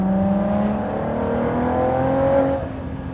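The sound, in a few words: Ford GT engine, manual downshift on Nürburgring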